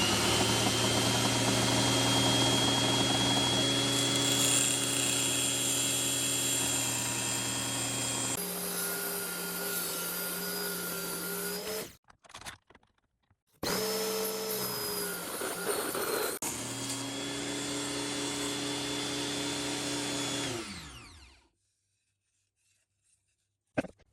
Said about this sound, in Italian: utilizziamo un maxi banco sega davvero indicato per questo tipo di lavoretti